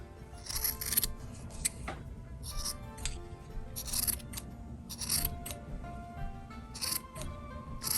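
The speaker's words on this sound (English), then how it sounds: "I have very sharp scissors." Repeated crisp snipping and clipping, in short clusters of cuts with brief pauses between, close up over a faint steady background.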